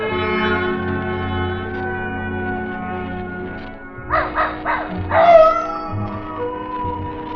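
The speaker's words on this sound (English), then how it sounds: "Old Nugget the dog was carrying on a long-distance conversation with his country cousins, the coyotes up in the hills" A dog barks and howls in an old-time radio noir drama on a romantic night, a few near yelps over a sustained droning musical bed with no talk.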